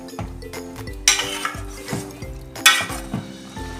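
A spoon stirs egg curry in a pan over a low flame, making a steady run of soft scrapes and metallic clinks, with two sharper scraping strokes standing out.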